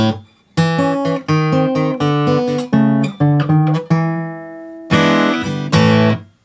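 Blues guitar turnaround in A in a triplet variation, clean plucked notes and double stops in a rolling rhythm resolving into a couple of strummed chords, close and loud.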